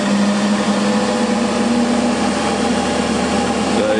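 A small micro generator spins at high speed while driving a light bulb load, producing a loud, steady whine and hum close up.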